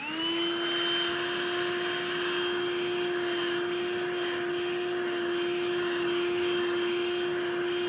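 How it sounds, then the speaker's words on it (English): Black+Decker Dustbuster cordless handheld vacuum running on a rug with no attachment, a constant close whining motor drone with a steady high pitch, alone and without talk. "you can see we have some hair embedded on our rug right here to see how the dustbuster is going to perform."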